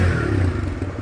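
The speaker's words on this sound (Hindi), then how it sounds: "एक बार वो करना एक्सीलेटर देना, सुनाना एग्जॉस्ट की भाई" A TVS Raider 125 motorcycle exhaust revving briefly on the throttle, a loud, close, rough engine drone with a low pulsing note and some rattling, no voices.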